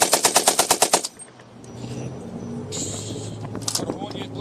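An M60 machine gun is test fired at Ironfest 2019, giving one loud, close burst of about nine rapid shots, followed by crowd noise and background voices.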